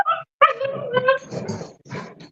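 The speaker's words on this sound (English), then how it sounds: "the dogs decided to play during the show" Dogs play in a room, letting out yips, whimpers and short excited barks in quick bursts with brief pauses between, close and fairly loud.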